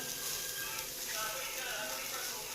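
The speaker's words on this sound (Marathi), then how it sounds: "आता कांदा आपला हलका परतत येत आहे, त्याच्यामध्येच मी लसूण, थोडंसं आलं घेतलं होतं तेही मी टाकते" Onion, garlic and ginger sautéing in a pan for a spicy pea and potato curry, a steady soft sizzle with faint stirring, quiet and continuous.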